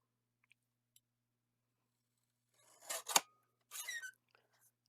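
A small paper trimmer slicing edges off a card slightly bigger than 4 by 6 inches gives two brief, close cutting swipes separated by a short pause in an otherwise quiet room.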